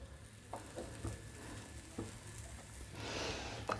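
Bread slices frying in melted butter in a pan for a cheese bread omelette give off a soft, faint sizzle with light crackles, swelling into a brighter hiss near the end.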